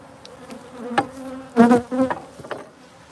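Honey bees buzz close by during a honey harvest, with several short, sharp buzzing passes rising and fading over a quiet background.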